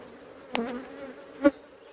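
Bees buzz around a hive being handled by a beekeeper, a close steady drone with two sharper swells as insects pass near.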